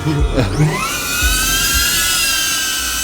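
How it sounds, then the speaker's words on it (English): A DJI Avata drone spinning up for takeoff, its motors rising into a loud, high, steady whine that holds close and constant, with voices talking nearby at the start. "I do not approve of the screeching of this drone."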